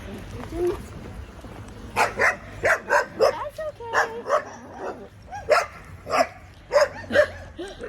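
A dog barks repeatedly in a series of sharp, close barks with a few yips and whimpers, the barking coming in irregular bursts at a dog park in Italy.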